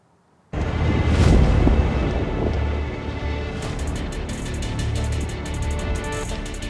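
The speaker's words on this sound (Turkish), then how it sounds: "İnanılmaz bir rüzgar var." Strong, steady wind roars and buffets against the microphone at a wildfire in Çanakkale, starting abruptly and continuing as a loud, rumbling rush.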